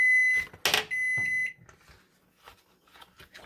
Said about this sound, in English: timer's going to go off